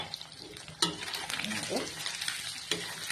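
Eggs sprinkled with turmeric fry in a pan with a soft, steady sizzle, while a utensil scrapes and taps against the pan as they are stirred nearby.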